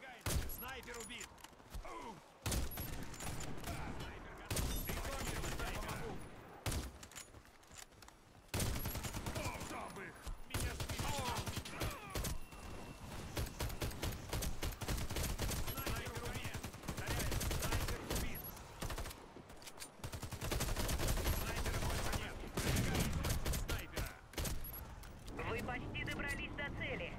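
Gunfire crackles in the shooter video game Warface as repeated bursts and single shots keep coming under spoken game dialogue through a busy mission.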